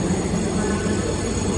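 A train pulls into a station, arriving from the wrong direction, with a loud, broad rumble and roar that fills the scene. Some voices and background activity sit faintly beneath it.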